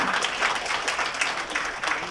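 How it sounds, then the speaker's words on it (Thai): Guests at an engagement ceremony in a hotel applaud the bride's family, a dense, continuous crowd clapping that stays fairly loud and even throughout. "ขอเสียงปรบมือให้ทางครอบครัวฝั่งว่าที่เจ้าสาวด้วยค่ะ"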